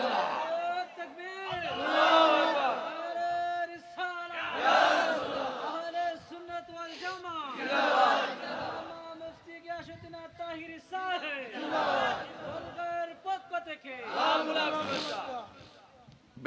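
A large crowd at a rally chants slogans in unison, a leader's voice calling lines answered by loud rhythmic group shouts repeating every few seconds, with echoing reverberation.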